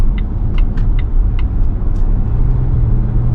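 A Volvo XC60 T8 drives along, its low steady road and engine rumble heard from inside the cabin, with faint intermittent ticks above.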